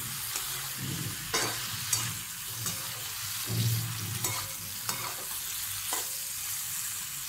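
Dhesa is sautéed in a pan with salt, giving a continuous low sizzle broken by repeated scraping stirs of a spoon against the pan, close and moderately loud, with no talking.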